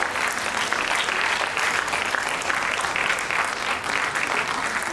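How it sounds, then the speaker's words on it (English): A crowd at a sickle cell foundation gathering keeps up continuous clapping as a pharmacist walks to the stage, an even wash of many hands at a constant level throughout. "Please, let's keep clapping until she gets to the stage."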